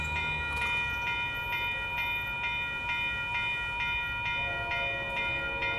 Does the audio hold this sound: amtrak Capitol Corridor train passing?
yes